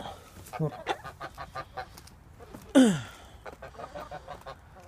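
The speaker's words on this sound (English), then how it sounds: "Move these birds out of the way so I can get out of the pen." Geese honk inside a muddy bird pen: a run of short, rhythmic nasal calls, then one loud drawn-out honk close to the listener, followed by quieter repeated calls.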